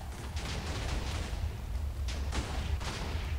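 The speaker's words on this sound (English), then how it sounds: "that green just ran directly into the explosion" Explosions from Minecraft Missile Wars go off as a series of muffled booms over a dull, rumbling background.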